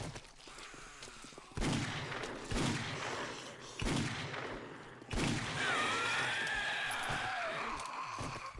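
Gunfire from a favorite gun in the PS4 version of 7 Days to Die, with four or five sharp shots spaced about a second apart, each followed by a short ringing tail over quiet game ambience.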